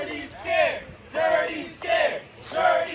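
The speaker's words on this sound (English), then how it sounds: "there's a Dirty Scared chant going on" A UFC event crowd chants in unison, four loud rhythmic shouted phrases repeating at about two-thirds of a second apart, close and dominant.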